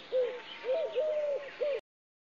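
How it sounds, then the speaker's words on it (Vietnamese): Pigeon cooing in a short sequence of four soft, rounded calls with brief pauses between them, heard clearly and alone, then silence at the end. "Chim bồ câu."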